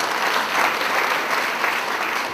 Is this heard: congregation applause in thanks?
yes